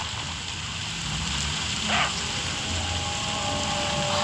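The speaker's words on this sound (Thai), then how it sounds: "ฝนตกแล้ว" Rain falls in the zombie survival game Into the Dead 2, a steady wash of noise with low rumbling underneath and a brief brighter splash midway.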